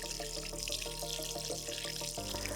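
Tap water slowly filling a 35-litre aquascaping aquarium, a steady close trickle and splash of running water with soft music playing underneath.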